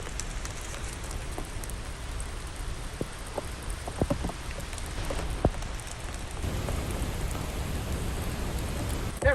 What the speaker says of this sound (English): That rain just keeps starting and stopping.